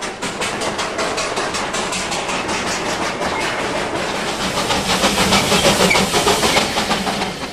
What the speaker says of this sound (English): After the needs of both locomotive and passengers have been met, the charter train continues its ascent into the hills